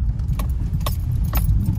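Keys jangle in several sharp bursts over a constant cabin rumble as a Maruti Suzuki Swift Dzire VXi CNG eases slowly over potholes.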